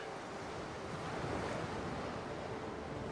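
Ocean surf washes over a sandy beach in a steady, dense wash of noise, close and fairly loud, with a touch of wind buffeting and no voices.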